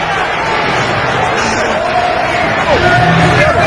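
A football stadium crowd at an XFL game between the Orlando Rage and NY-NJ Hitmen groans and jeers in displeasure, a dense roar of voices that swells slightly toward the end.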